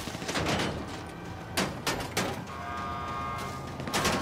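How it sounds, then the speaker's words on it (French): Scattered gunshots in a video game crack out in short separate bursts at moderate distance over a steady background hum, with several sharp reports spaced across a few seconds. "Ah, il y a des tirs."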